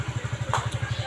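A Honda Supra X125 motorcycle with a badly smoking, worn engine idles close by, its single cylinder thumping in a quick, even beat of about eleven pulses with a brief clatter in the middle.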